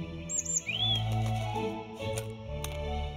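A robin gives a few high chirps and a short rising whistle early on, over low sustained music tones with light tapping clicks.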